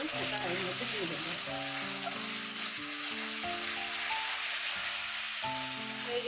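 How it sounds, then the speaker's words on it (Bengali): Spice masala frying in a pan for a home-cooked dish of boiled peas and potatoes, a steady soft sizzle running throughout beneath background music, with no talk. "এদিকে মশলাটা একটু কষিয়ে নিচ্ছি"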